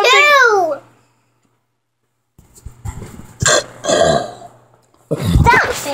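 A child's loud burp sounds once, then a pause, with children's voices and short vocal bursts following.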